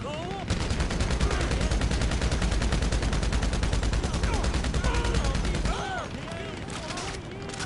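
Rapid automatic gunfire in the video game GTA Online, a dense unbroken burst lasting several seconds that then cuts off, leaving background game noise with a voice talking over it.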